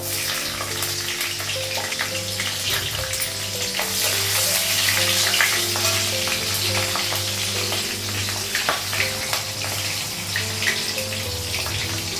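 Whole cumin, cardamom and green chillies fry in hot oil, a steady loud sizzle and crackle with a few spattering pops throughout.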